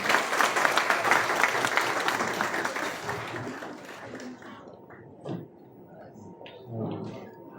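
An audience applauds at a presentation event as a singer is introduced. Dense clapping is loud for about four seconds, then thins and fades into scattered claps and a few stray knocks.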